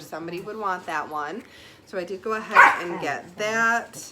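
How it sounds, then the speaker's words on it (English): Dogs bark, yip and whimper in short bursts while wrestling indoors, the noise mixed in with a person talking nearby. "sorry for the dogs, they're wrestling"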